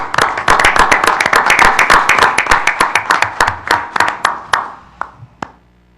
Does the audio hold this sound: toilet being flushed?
no